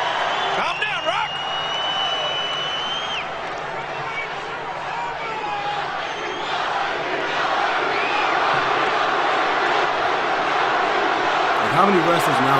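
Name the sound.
wrestling arena crowd chanting The Rock's name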